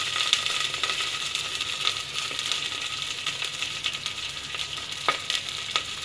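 Green chilies, ginger and garlic sauté in a pan for a Kerala-style fish curry, giving a steady close sizzle with scattered scraping clicks from stirring and no talk.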